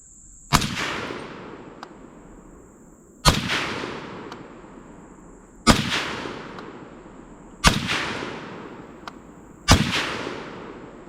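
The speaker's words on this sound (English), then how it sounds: "let's go ahead and see what our Remington 110 grain soft point can do on our 5-inch circle down there" Fulton Armory M1 Carbine firing Remington 110 grain soft point rounds at a target: five sharp, loud gunshots spaced about two seconds apart, each followed by a short decaying echo, with no talking.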